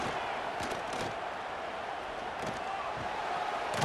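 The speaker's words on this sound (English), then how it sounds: "this crowd is fired up. Listen to this noise here." Loud, steady roar of a packed football stadium crowd at an Auburn home opener against Mercer, a dense wash of cheering with a few sharper swells throughout.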